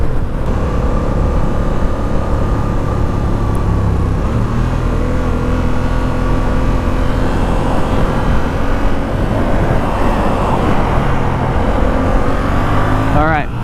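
A 2019 Yamaha XSR700 motorcycle accelerates onto a freeway, its engine droning steadily and loudly with rising pitch, mixed with heavy wind rush throughout.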